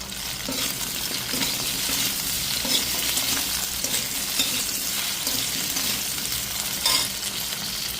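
Prawns and potatoes fry with a dried red chilli, a bay leaf and salt in a hot pan. The oil gives a steady, close sizzle, and a spatula stirs and clinks now and then.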